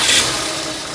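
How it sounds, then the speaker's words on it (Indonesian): A car with a faltering, sometimes stalling engine gives a brief, loud burst of engine noise near at hand as it is started, with no voices. "Kita coba hidupkan ya mobilnya."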